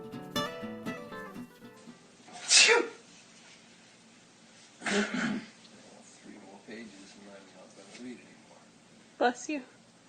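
Sneezes, three or four sharp bursts spaced a couple of seconds apart, close and loud, with a voice speaking at the start.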